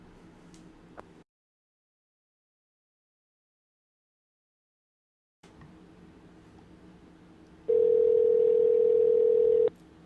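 On an outgoing phone call, a steady ringback tone sounds for about two seconds over faint line hiss, after a stretch of silence.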